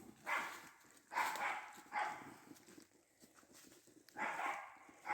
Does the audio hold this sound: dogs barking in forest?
yes